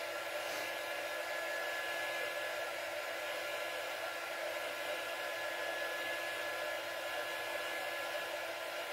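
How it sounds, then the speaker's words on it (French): A heat gun drying India ink on an art journal page, blowing with a loud, steady, unbroken whir and rush of air from start to finish. "Je vais mettre un tout petit coup de heat gun quand même,"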